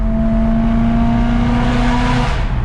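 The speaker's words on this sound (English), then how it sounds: "this exhaust is so well designed that all the sound is kind of outside the car" A BMW M3 with an aftermarket exhaust revs hard in a loud, steady engine roar whose pitch holds and then slightly shifts before easing near the end, heard up close with no talking.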